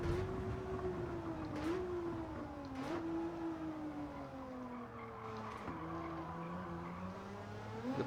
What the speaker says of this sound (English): The back end was sliding round there as I tried to get it to come round and corner quicker